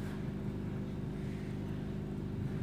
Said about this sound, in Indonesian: Ya, seperti ini perputarannya, sangat kencang. Hanya dengan dinamo 4WD saja